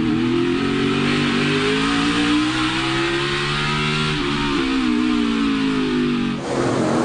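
Xfinity Series race car engine recorded on board during the Chicago street race, a loud continuous roar that holds steady then pitches up and down through gear changes, with a brief lift near the end.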